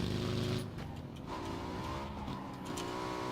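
A car engine in the battle royale video game PUBG drones steadily throughout, a close, loud hum with a slight shift in pitch partway through.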